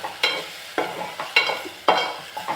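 Sambar with potato and brinjal stirred in a pot, the spoon scraping and splashing in repeated strokes about every half second, close and fairly loud with a light sizzle beneath.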